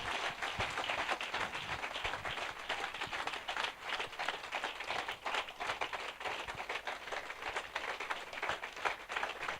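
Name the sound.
church congregation applauding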